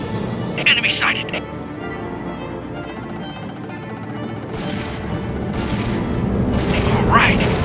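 Gunfire and explosions from the Army Men RTS video game: sharp cracks and booms pop near the start and again toward the end, over a steady rumble, with short spoken unit callouts.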